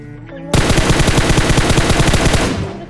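Automatic gunfire erupts in BGMI, a battle royale mobile game, as a sudden loud spray of rapid, evenly spaced shots lasting a couple of seconds before cutting off.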